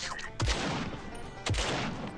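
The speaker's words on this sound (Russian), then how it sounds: "я бы сказал, это снайперская винтовка" Sniper rifle shots from the mobile game Swamp Attack 2 ring out twice, each a sharp loud crack with a short decaying tail, spaced about a second apart over a faint game background.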